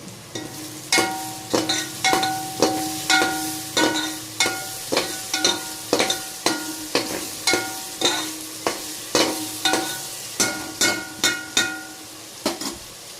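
Ginger paste being stirred into browned onions frying in a pan: rhythmic, repeated spoon scrapes and taps against the pan over a continuous sizzle, close up with no talk.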